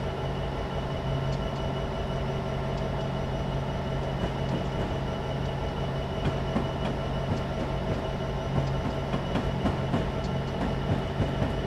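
A locomotive-hauled train rolls over the rails at Cajon Pass in Train Simulator 2015, a steady low rumble with a constant engine hum and faint, irregular wheel clicks throughout, no talk.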